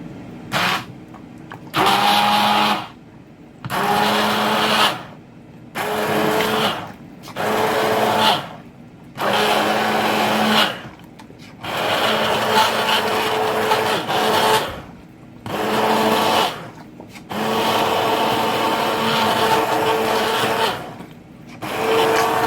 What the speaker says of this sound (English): So I now have my blender.